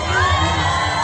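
A theater audience at a live holiday storytime show at a California theme park cheers loudly, with whoops and children's shouts in a dense, continuous roar that carries no distinct claps.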